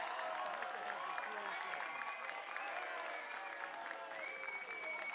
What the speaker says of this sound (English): listen to the ovation he's getting from this crowd